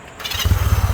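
A motorcycle at a classic bike restoration shop starts off and rides away, its engine rising from quiet into a loud, throbbing low rumble with a steady pulsing beat close by.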